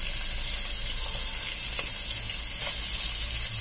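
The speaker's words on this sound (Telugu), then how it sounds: "దాన్ని మళ్ళీ మనం కొంచెం బ్రౌనిష్ కలర్ లో వేయించుకోవాలి." Boiled chicken pieces browning in a pan for chicken fried rice give off a steady, even sizzle with a broad hiss that holds throughout, with no voices.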